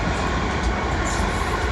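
A South Western Railway class 450 electric multiple unit races past at speed, its broadband roar of wheels and motors filling the whole stretch loudly and steadily with no voices over it.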